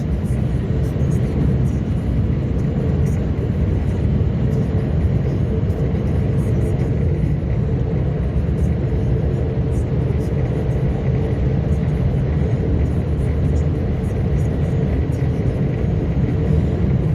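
A snow plow truck engine laboring up a steep incline at night, a loud, steady low rumble that drones on continuously with no clear pauses or voices over it.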